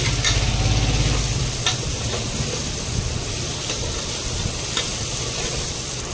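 Tomatoes frying in a cooker for bottle gourd rice give off a steady close sizzle, with stirring scrapes and a few sharp clicks of a utensil against the pot, all without talk.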